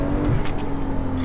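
A 580 bhp Porsche 911 Turbo S pulls hard from inside the cabin, a steady muffled engine drone with rising tone under wind and road rumble, brief and continuous.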